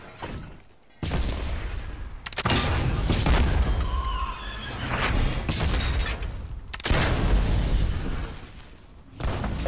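Heavy booming cannon fire from a ship battle game, with several loud blasts and crashing impacts rolling through the scene.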